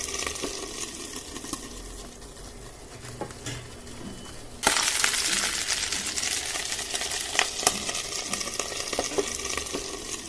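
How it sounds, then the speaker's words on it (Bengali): Malpua pitha pancakes frying in oil, a soft bubbling sizzle that suddenly grows louder and brighter midway as the pancake is flipped, with scattered light clicks and scrapes nearby. "সাবধানে উল্টিয়ে অন্য পাশও একইভাবে ভেজে নেব।"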